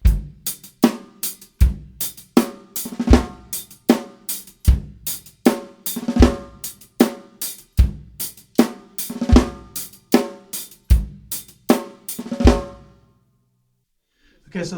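A reggae riddim groove played on a drum kit: kick drum, sharp rim shots and hi-hat in a steady repeating pattern, close and dry, then a short silence before one more hit at the end.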